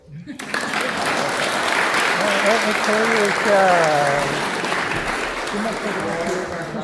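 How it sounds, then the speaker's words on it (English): Steady, sustained applause fills a conference hall in Oslo, Norway, for a speaker at a Norgesdemokratene gathering, with a few faint voices rising within the clapping. "Applause."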